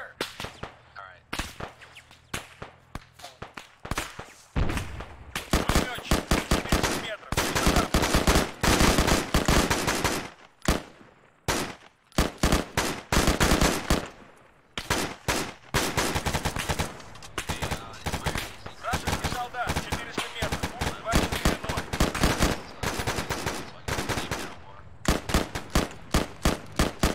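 Sustained automatic and rifle gunfire from enemy forces during a military video game operation, dense rapid bursts and single shots crackling loudly and almost continuously, with brief gaps and faint voices underneath.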